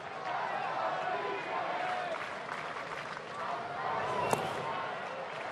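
A baseball crowd in Atlanta during the 7th inning cheers and murmurs steadily to urge on a batter, with a broad roar that swells slightly near the end. A broadcaster talks over it.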